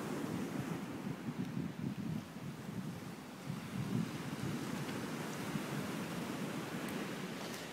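Broad, steady roar of ocean surf on a beach, constant and close with gusty wind buffeting the microphone throughout; no voices.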